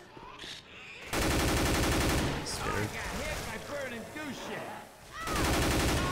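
Gunfire in the video game Left 4 Dead 2, rapid automatic bursts rattling almost continuously and loud, with players talking over the shooting.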